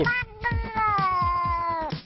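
A cat meows repeatedly up close, a run of clear, drawn-out tonal cries, the longest one sustained in the middle, heard alone without talk.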